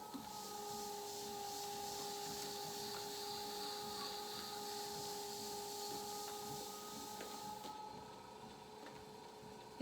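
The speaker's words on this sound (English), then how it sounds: "So I'm going to go ahead and do that with my thicker tool here to take off more surface area." A thicker trimming tool scrapes steadily against a clay bowl turning on a potter's wheel, giving a continuous soft rubbing rasp over a faint, steady wheel-motor hum, close and fairly quiet, with no talking.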